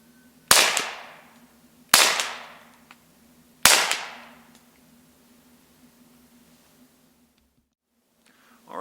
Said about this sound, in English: we've seen what a big difference a suppressor can make in the level of noise and muzzle blast you experience when you're firing a pistol